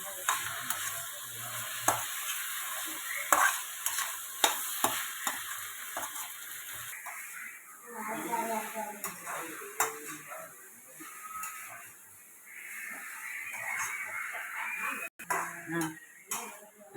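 Chopped tomatoes fry and sizzle in a pan for rava kichadi, with a steady hiss under frequent scraping stirs of a spoon against the metal, close and moderately loud, no talk.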